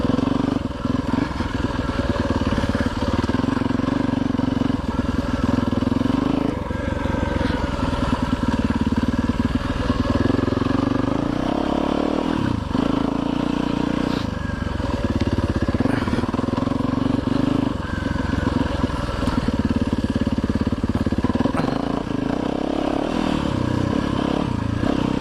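Enduro dirt bike engine droning steadily and loudly throughout, with rising and falling revs and clattering over rough ground, the front tire's knobs worn and chunking.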